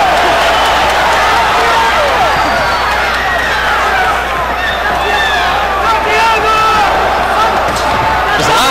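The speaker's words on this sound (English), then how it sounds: "There's a lot of cheering and excitement in the arena." A large arena crowd at a Floyd Mayweather vs Victoriano Sosa boxing match keeps up a steady, loud roar of cheering and babble, with scattered shouts and whistles rising over the dense wash of voices.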